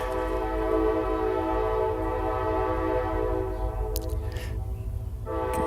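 A train sounds its horn in a long, loud, sustained blast close by over the rumble of the passing train, the chord holding steady before breaking off near the end.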